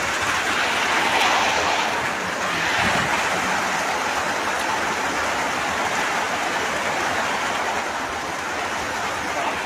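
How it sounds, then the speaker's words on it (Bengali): Steady heavy rain pouring down outdoors in a rural farming area, a dense even hiss of drops that continues without break, close and fairly loud, no voices. "যেভাবে বৃষ্টি হচ্ছে থামবে বলে মনে হয় না"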